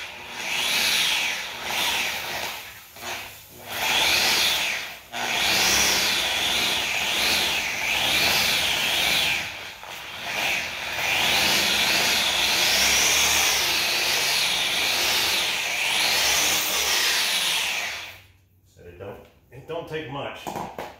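An old sanding pad with a flat spot bounces unevenly while sanding hazy composite headlights, giving a loud, continuous rubbing whir with rhythmic wobbling surges; it cuts off near the end, with talk throughout.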